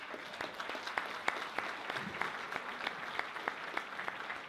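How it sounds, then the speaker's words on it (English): Audience applause at a Calgary public teachers' event, a steady wash of many hands clapping with scattered sharper claps standing out, moderately distant and continuous throughout. "Can we give them a round of applause?"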